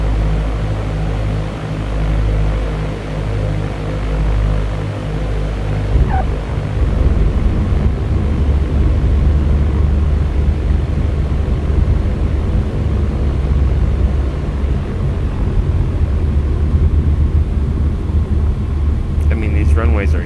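A small single-engine plane in the X-Plane 11 flight simulator holds a steady, loud engine drone that shifts in tone partway through, with no voice heard over it.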